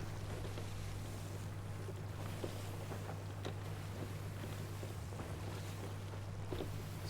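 A sailing ship moving across open sea in Sea of Thieves, with steady low water and wind rumble and faint creaks and splashes throughout, no talking.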